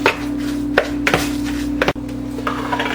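Ground meat stirred into a thick paste for copycat White Castle burgers, with soft wet scraping strokes and a few sharper knocks of the utensil against the bowl, close and steady over a constant low hum, with no talk.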